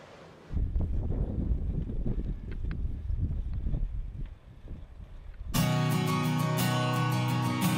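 Steady wind buffets against a microphone while bicycling uphill, a low roaring rumble that gives way to a brighter, harsher gusting noise near the end.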